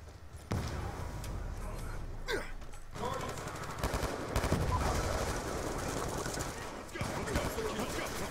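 Rapid bursts of automatic gunfire from the multiplayer video game Call of Duty: Black Ops 2, sounding fairly close and continuous over several seconds, with a player talking over the shooting.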